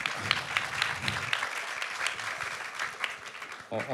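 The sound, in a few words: applause for the governor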